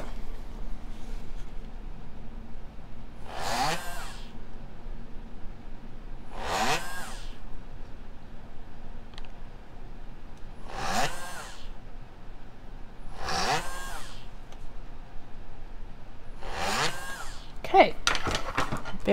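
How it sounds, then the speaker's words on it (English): Short bursts of a small rotary drill boring holes in heishi beads on a cutting board, five evenly spaced whirs rising and falling over a quiet background. "I am only going to drill two holes in these two"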